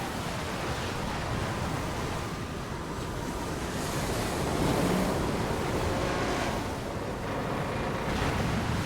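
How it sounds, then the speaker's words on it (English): Ocean waves crash and surge in the video game Lost Odyssey, a steady broadband roar of surf with wind that swells slightly midway and carries on without pause throughout. "The waves are gonna smash us to pieces!"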